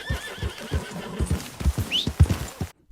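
Appaloosa horse in Red Dead Redemption 2 whinnies briefly while its hooves clop in an irregular rhythm, close and fairly loud.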